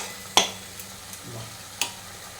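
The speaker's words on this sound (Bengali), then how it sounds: "কষতে হবে এটা ভালো ভালো করে।" Gandhal leaf curry stir-frying in a pan, with two sharp scraping clacks of a spatula against the pan over a faint, low sizzle.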